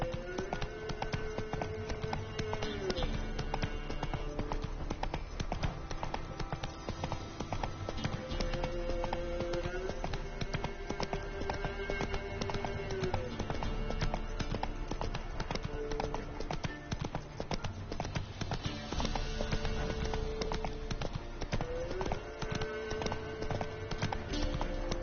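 A horse gallops steadily in The Witcher 3, its repeated hoof clip-clop running continuously under a dense, loud game soundscape with music throughout, and no talk.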